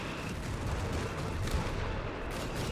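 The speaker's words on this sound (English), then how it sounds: "US players added on a second artillery piece here. Barrage is absolutely everywhere." Artillery barrage in Company of Heroes 3, with US artillery pieces shelling constantly, forms a dense, unbroken roar of overlapping blasts and rumbling that stays loud throughout.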